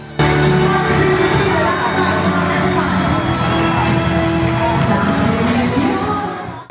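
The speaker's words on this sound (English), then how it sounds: "veteran Filipino celebrities rendered songs to a happy and excited crowd" A happy, excited crowd cheers and shouts at a musical event where veteran Filipino celebrities perform songs; dense, loud, steady crowd noise fills the whole stretch, fading slightly at the end.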